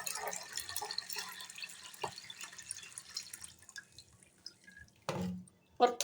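Sattu drink is poured through a sieve into a pot, giving faint trickling and dripping liquid sounds with small clinks, then a louder splash near the end, with someone talking quietly over it.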